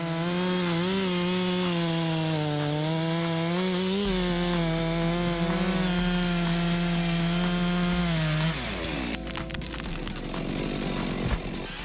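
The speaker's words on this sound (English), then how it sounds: "the man operated the MS 462 chainsaw engine accurately and effectively" A Stihl MS 462 chainsaw runs at a high, sustained roar, its pitch wavering as it bites into wood, then shifts into a rougher, rasping cut near the end, loud and close with no talking.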